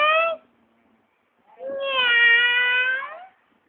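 Two clear meows from a cat, one short and cut off, then a longer drawn-out call after a brief silence, close and fairly loud with nothing else around.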